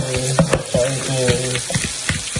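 Young leaf shoots sizzle and crackle in a hot pan, with brief stirring scrapes and pops over continuous frying noise.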